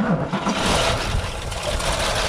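A vehicle engine fires up and runs in a dense, steady roar close by, loud and rough throughout with no talk over it.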